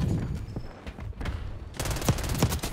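Kompakt 92 SMG fire in Black Ops 6: a few scattered shots early, then a fast, loud burst of automatic fire in the final second, close and punchy over game ambience.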